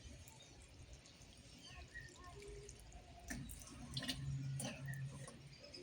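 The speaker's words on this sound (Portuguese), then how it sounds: "Olha o escoamento, pessoal. Ela ama isso. Olha embaixo, no fundo do vaso." Water draining out the bottom of a potted desert rose after watering: a soft, continuous trickle with scattered drips, quiet and close, growing slightly stronger toward the end.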